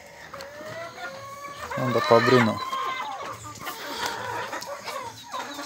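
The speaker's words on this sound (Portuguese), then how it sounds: "Uma criação de galinha aí, ó." Free-range chickens cluck and a rooster calls in a close, busy run, with a loud burst of squawking in the middle; someone speaks briefly over the birds.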